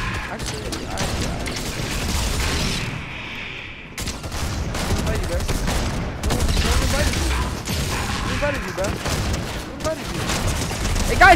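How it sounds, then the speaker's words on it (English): Dense video game gunfire in a multiplayer war match, rapid bursts and crashes running loud and nearly nonstop, with a short lull partway through. "Stop shooting me!"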